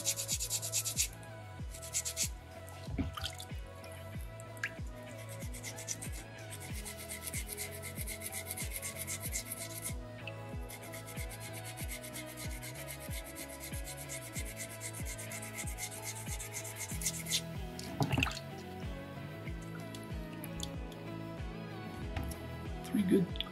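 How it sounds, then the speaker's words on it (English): Sandpaper rubs steadily back and forth against a soapstone carving, close and continuous, with a scraping rhythm in repeated strokes, faint overall. "You might need to open up your sandpaper and use a fresher spot."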